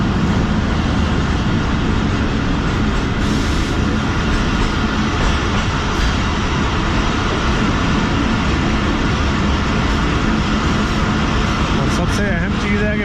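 A loud, continuous roar of the Tezgam train on the line from Rawalpindi to Karachi as it passes the Musabagh Express, with the steady rumble of the passing carriages.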